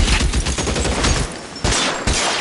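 Rapid gunfire in the video game L.A. Noire, a loud dense volley of shots that briefly drops off and then resumes.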